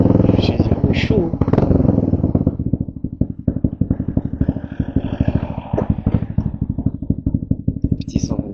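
Small 125cc motorcycle engine heard while riding, a close, rapid putt-putt pulse with throttle changes, with a rider talking over it.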